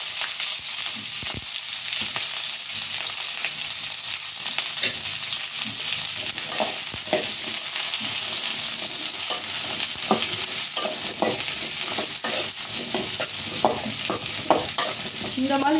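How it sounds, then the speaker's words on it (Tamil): Cut onions sautéing in a little oil in a pan for a prawn dry gravy, a steady dense sizzle running throughout with frequent scraping stirs and small crackles, close and fairly loud with no talking. "ஒரு பாத்திரம் வச்சுட்டு நம்ம கழுவி கட் பண்ணி வச்சுருக்க வெங்காயத்தை போட்டுட்டு கொஞ்சம் ஆயில் ஊற்றி கொஞ்சம்"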